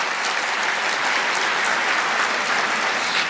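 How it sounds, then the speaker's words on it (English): An audience of about 720 people at a race and inclusion summit keynote applauding, a dense, sustained wash of clapping that fills the room at steady loudness throughout. "So round of applause."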